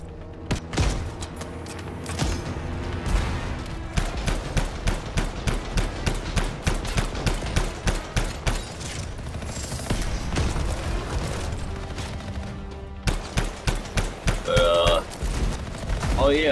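Rapid bursts of weapon fire crackle through the game Anthem, a long run of sharp, closely spaced shots in clusters with brief gaps and mechanical clicks, while a player talks at times.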